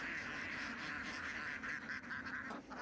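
A flock of ducks quacks continuously in a dense, overlapping chorus, moderately distant, with a steady murmur of background noise.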